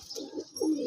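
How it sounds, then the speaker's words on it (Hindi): Pigeon cooing up close, a few low throaty coos in quick succession with faint chirps from young pigeons in a loft, no talking over it. "ये देखो ये कबूतर"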